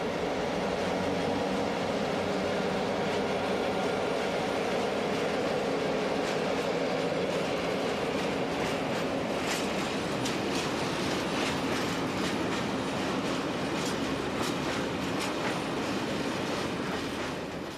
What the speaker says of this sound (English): all three locos are in fact powered and working